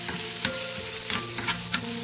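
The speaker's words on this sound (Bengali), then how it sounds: "পেঁয়াজটাও ভাজা হয়ে গেছে" Onions sizzle and fry in mustard oil in a pan while being stirred, with a steady close hiss and repeated scraping clinks from the spoon.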